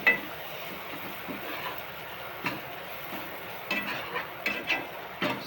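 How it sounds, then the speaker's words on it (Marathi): Onion-tomato masala paste being sautéed and stirred in a pan for masala vangi, soft low sizzle under scattered clinks and scrapes of a spoon against the pan, no talk. "आता चांगलं त्याला परतून घेऊया"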